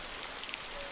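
Soft, steady hiss of rain in a tropical rainforest with a few faint drops pattering on a surface.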